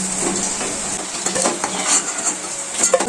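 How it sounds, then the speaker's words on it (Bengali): Fried potatoes are lifted from a pan one at a time, with metal utensils clinking and scraping against cookware over a faint background sizzle; several distinct clacks occur close by with no talk. "তো এরপর আমি এক এক করে আলুগুলো তুলে নেব।"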